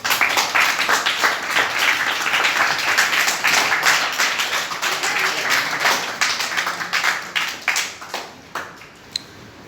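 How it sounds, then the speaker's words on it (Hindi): Students at a government senior secondary school in Gurugram clap together, a loud, dense burst of applause that gradually thins into scattered individual claps toward the end. "तालियां बजाओ।"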